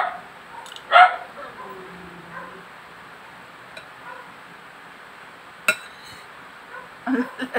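A dog barks in short, sharp yips a few times at close range, with scattered clinks of dishes and faint background noise between the barks.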